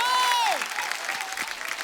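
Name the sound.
loud audience applause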